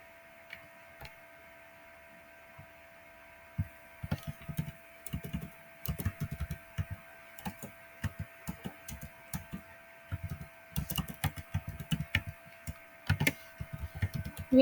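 Computer keyboard typing of an email and password at a login form, bursts of quick close key clicks after a quiet opening, irregular rhythm with brief pauses, no talking.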